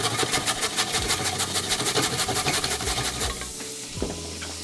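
Grated carrot sautéing in a pan, a steady dense sizzle with repeated stirring scrapes that thin out and quiet near the end, with a low engine-like hum beneath.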